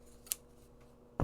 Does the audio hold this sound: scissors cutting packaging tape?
yes